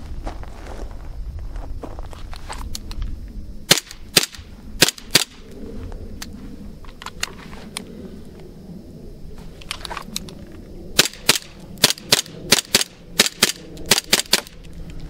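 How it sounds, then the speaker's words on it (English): A 1911-style BB pistol is fired: single sharp cracks with pauses between them, then a quicker string of shots, with faint shuffling in the background. "So let's start off with this 1911 and uh, just do a little shooting."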